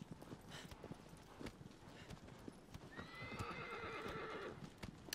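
Agro the horse from Shadow of the Colossus gallops with steady, rapid clip-clop hoofbeats, and a loud whinny rings out partway through over the running hooves.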